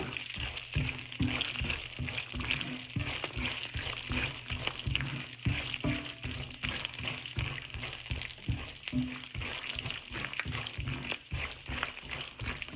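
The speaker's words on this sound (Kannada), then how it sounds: "ಸ್ವಲ್ಪ ಫ್ರೈ ಮಾಡ್ಕೋಬೇಕು" Food frying in a pan while cooking a coconut mustard rice, a faint steady sizzle with soft stirring and scraping knocks repeating throughout.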